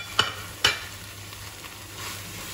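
Coriander and green chillies tipped into a pan for Iraqi kubba hammoth and stirred in: two sharp, close knocks of a utensil against the pan early on, then a soft, low sizzle with no talking.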